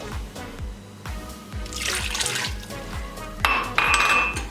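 Water poured from a small cup into a cooking pot of chicken and potato curry, a short trickling splash amid light clinks of metal cookware, no talking.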